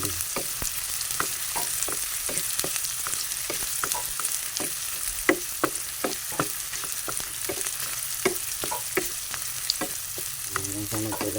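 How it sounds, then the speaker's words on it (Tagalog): Onion and garlic sautéing in a pan, a steady sizzle with repeated sharp scrapes of a spatula stirring at a brisk, regular rhythm, close and alone with no talk. "tapos inikos-nikos natin guys hanggang sa magkulay brown"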